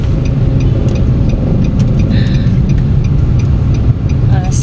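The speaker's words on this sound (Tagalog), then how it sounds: "So ngayon naipit kami sa traffic." Steady engine rumble of cars idling and creeping in a jammed city traffic queue, a continuous low drone close by with a brief faint squeak near the end and no talking.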